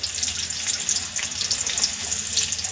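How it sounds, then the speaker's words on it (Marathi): Sliced onion frying in one to two spoons of oil in a kadhai, a steady close hiss and crackle of sizzling that runs without pause and with no voices. "आपण कांदा व्यवस्थित परतून घेऊया"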